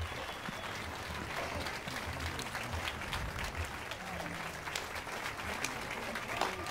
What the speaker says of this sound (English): Geralt giving her a standing applause.